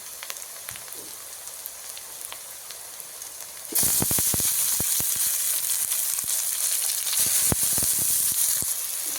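A soft, low sizzle jumps suddenly to a loud, bright frying hiss as tomato goes into hot oil with turmeric, crackling and popping steadily up close.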